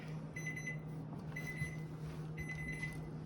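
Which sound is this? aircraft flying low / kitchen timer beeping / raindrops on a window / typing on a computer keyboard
kitchen timer beeping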